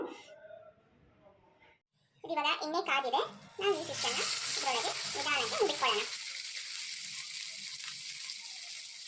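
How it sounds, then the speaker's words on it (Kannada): Fish fries slowly in oil over a low flame, a steady close sizzling hiss that starts partway through and continues to the end, after someone talks over the stove. "ಲೋ ಫ್ಲೇಮಲ್ಲಿ ನಾನು ಇದನ್ನ ನಿಧಾನಕ್ಕೆ ಫ್ರೈ ಮಾಡ್ಕೊತೀನಿ"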